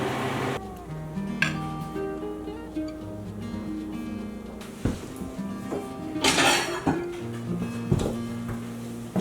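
Dishes and cutlery clink while a wild turkey dinner with gravy is plated, scattered knocks and chinks over a steady low background hum.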